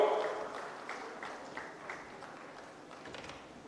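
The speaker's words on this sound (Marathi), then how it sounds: "पुन्हा एकदा जोरात नितीनजीसाठी जोरात टाळ्या वाजवून" Audience applause at a village public event honouring Nitin Gadkari, a dense spread of clapping from a crowd that stays fairly loud and steady, fading slightly toward the end.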